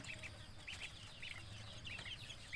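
Chickens cluck in a coop at feeding time alongside ducks, short repeated bursts of clucking at a steady moderate distance over a low rumbling background, with no talk.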